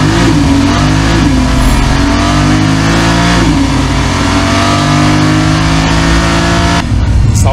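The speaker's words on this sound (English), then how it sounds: "Do you want to see the engine in action?" A 2026 Porsche 911 Turbo S engine revs loudly and close, its pitch sweeping up and falling back in repeated surges, with a brief cut near the end before the roar resumes.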